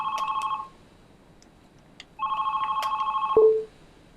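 A phone ringtone plays two bursts of warbling electronic rings separated by a quiet gap, the second cut off by a short lower beep, moderately loud with no talking.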